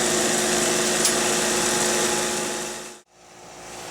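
Steady high-pitched whine of a Delta 8-inch bench grinder buffing metal, running loud and close, then cutting off abruptly and spinning back up.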